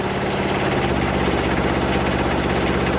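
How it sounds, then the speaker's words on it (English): A Citroen GS fitted with a 2-cylinder diesel engine runs at a steady idle, giving a continuous loud, even chugging drone with no speech over it. "So it's got a 2-cylinder diesel engine"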